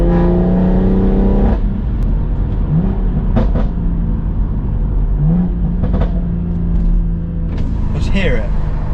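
A stage 2 tuned BMW M140i engine revs loudly under a continuous engine drone, with several short sharp rev blips spread across the stretch, and a voice talks over parts of it.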